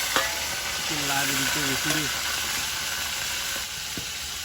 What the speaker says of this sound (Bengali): তেলটা হয়ে আসছে, এই জন্য ইসা মাছগুলো দিয়ে দিচ্ছি